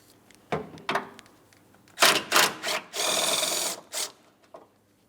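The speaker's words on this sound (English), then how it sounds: "there's a 10mm bolt holding the bracket. Remove the bolt." A 10mm bolt being worked loose from the metal headlamp bracket of a Pontiac Grand Prix, short close mechanical whirring and ratcheting bursts with brief gaps, fairly quiet overall.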